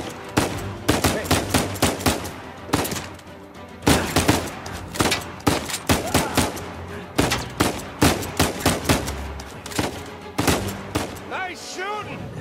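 Rapid bursts of gunfire from an Uncharted 4: A Thief's End firefight, with loud, closely packed shots and automatic volleys firing almost without pause, broken by a few brief lulls and a faint voice near the end.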